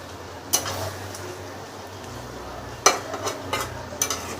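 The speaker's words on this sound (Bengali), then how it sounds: "এই পর্যায়ে আবার কোয়েল পাখিটা আমরা নেড়ে দিচ্ছি যেন চুলায় লেগে না যায়" A spoon stirs quail curry in a pan on low heat, making a few distinct scraping clinks against the metal over a faint, steady background hiss.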